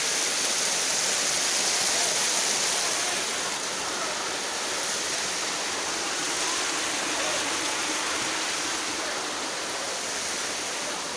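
A waterfall with water gushing down, a loud, steady, broadband rushing roar heard close and continuous for the whole stretch.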